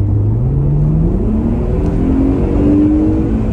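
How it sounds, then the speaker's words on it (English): A Mercedes-Benz SL 350 R230 accelerates hard on a country road in Epping. The engine gives a loud, steady rising drone as it pulls up through the revs, heard from inside the car with no talk over it. "it's not a V8 or a V12 sound that we're so familiar with from Mercedes"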